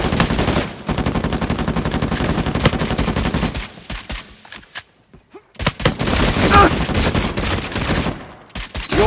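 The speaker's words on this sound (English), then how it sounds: "Laying down suppressive fire." Sustained automatic gunfire in a video game rattles loudly and close as suppressive fire, breaking off briefly in the middle before resuming in dense bursts.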